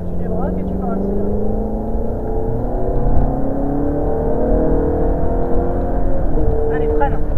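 A car's engine rises steadily in pitch as it accelerates during a driving lesson, heard from inside the cabin as a loud continuous drone, while a voice talks faintly under it.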